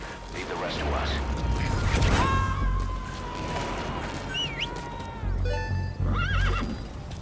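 In the video game Metal Gear Solid V: The Phantom Pain, a horse whinnies and hooves clip-clop, with mechanical clicks and a rumbling background; the neighs come in short bursts.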